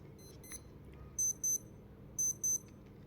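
Casio A159W digital watch alarm just lifted out of water, sounding as two pairs of sharp high electronic beeps over a low background rumble, with no talking.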